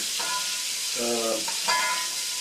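Beef pieces browning in a pot for beef bourguignon give a steady, close sizzle and hiss of frying, with faint stirring and scraping underneath.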